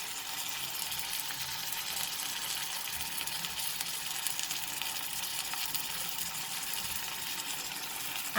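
Chicken curry with potatoes and peas sizzles steadily in a pan with cumin, Kashmiri red chili and turmeric powder, a constant close frying hiss that continues evenly without pause.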